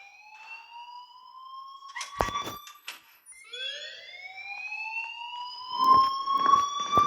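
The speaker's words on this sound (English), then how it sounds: "please turn off that alarm since that's your job" Alarm ringing in the video game Life is Strange, a rising electronic tone sweeping upward repeatedly at moderate volume, broken by a few short clicks and muffled noises.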